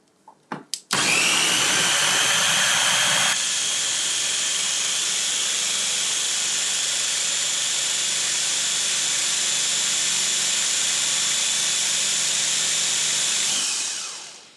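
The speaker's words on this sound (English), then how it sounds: "put my blender together, and we're going to make our batter" A blender blends eggs and goat's cheese into pancake batter. A few clicks lead into a loud, steady high whirring that runs about twelve seconds before winding down, with no talking.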